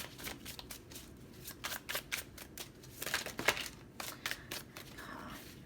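Close, quiet shuffling of tarot cards in loose, uneven bursts, with papery riffles and soft slaps repeating over several seconds, no talking.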